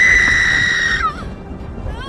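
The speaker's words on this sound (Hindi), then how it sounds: "अचानक झोपड़ी के अंदर से एक दर्दनाक चीख सुनाई दी" A woman's pained scream rings out from inside a hut during a storm, a sustained high wail lasting about a second before cutting off, leaving wind-like noise behind.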